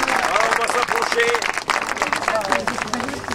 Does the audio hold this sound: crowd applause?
yes